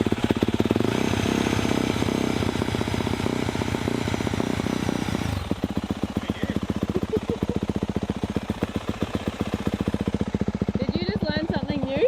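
A motorcycle engine runs with the choke engaged, loud and uneven at first, then settling into a rapid, lumpy idle with fast regular pulses. Someone talks over it.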